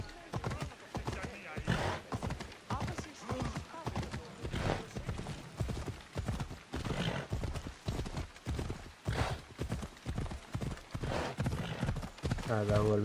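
A horse gallops in the video game Assassin's Creed Odyssey, with rapid, steady clip-clop hoofbeats running throughout under continuous talk in Arabic.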